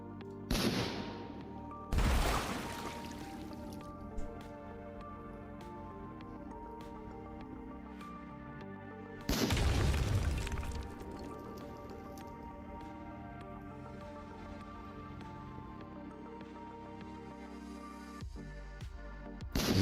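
Cannons on a pirate ship in a homemade video game fire in two loud booming bursts, about seven seconds apart, over a steady layered game soundtrack, with a few softer thuds near the end.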